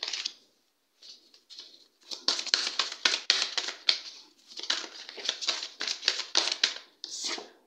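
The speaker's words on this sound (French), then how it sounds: "on va tirer 5 cartes" Tarot cards shuffled and drawn by hand, a close series of crisp riffling, slapping bursts in an uneven rhythm with short pauses, no talking over them.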